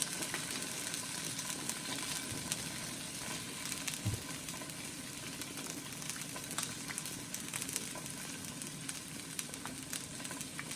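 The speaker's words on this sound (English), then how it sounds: "this is mainly just to sear the bottom of the salmon" Skin-on salmon searing skin side down in a hot pan, producing a dense, steady sizzle and crackle that holds evenly throughout, close and unbroken, with only a faint knock near the middle and no talking.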